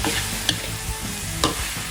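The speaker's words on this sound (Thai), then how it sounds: "คนอีกรอบนึงให้ใบกะเพราสุกครับ" Seafood tossed with holy basil leaves in a hot wok gives a close, continuous sizzle with two sharp spatula scrapes against the pan, no talking.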